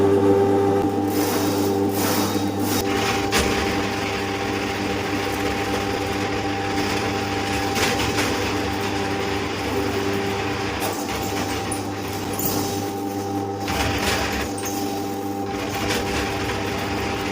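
A drain cleaning machine drives its cable into a kitchen sink drain pipe at a private house, a loud, steady motor whir with a constant hum and occasional knocking rattles, running without pause.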